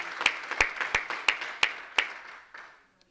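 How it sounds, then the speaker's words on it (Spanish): A church congregation gives a service applause. It sounds as a short run of six evenly spaced, sharp, reverberant claps that fade into a quiet echoing tail. "Démosle un aplauso a él en esta hermosa hora."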